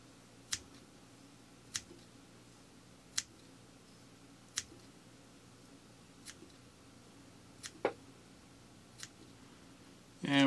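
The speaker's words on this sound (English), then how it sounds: "So I'm going to use a pair of straight scissors now," Straight scissors snip while trimming the body of a low-water Moose fly, giving sparse, sharp single clicks spaced a second or so apart over a faint steady hum, close to the microphone.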